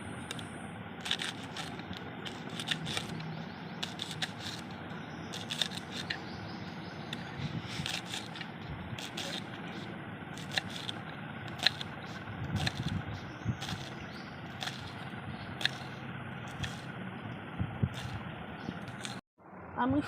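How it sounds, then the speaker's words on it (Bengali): Taro flowers being finely chopped with a knife, a long run of sharp, quick cuts in irregular rhythm, close and fairly loud over a steady background hum, stopping briefly near the end. "এবার আমি এগুলোকে কুচি কুচি করে নেব।"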